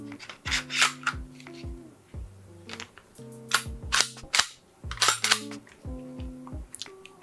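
Sharp plastic clicks and rattles as a custom slide is fitted back onto a WE Tech G18c airsoft pistol, a close series of snappy clacks and sliding scrapes in irregular bursts, with no talk.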